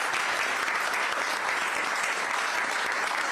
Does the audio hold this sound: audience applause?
yes